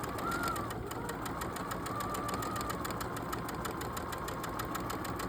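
A sewing machine stitching flying geese quilt fabric, running with a fast steady mechanical whir and rapid needle pulsing, quiet and continuous without pause.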